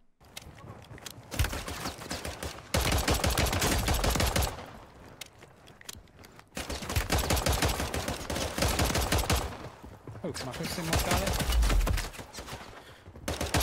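Rapid automatic gunfire from a submachine gun in the online shooter Warzone, in several sustained bursts separated by short gaps, loud and close, with a player talking briefly between bursts.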